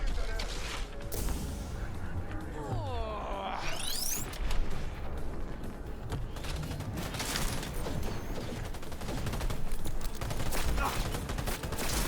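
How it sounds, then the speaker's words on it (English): Gunfire rattles at the player in Cyberpunk 2077 as rapid bursts of shots crackle through a busy firefight, mixed with mechanical whirs and whooshing effects and a brief voice. "Who's shooting me so hard? Stop shooting at me."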